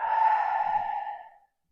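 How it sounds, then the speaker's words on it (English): A single deep, drawn-out exhale during a tree pose yoga practice, a close breathy sigh that holds steady and then fades out over about a second and a half. "Take a big breath in. And a big breath out."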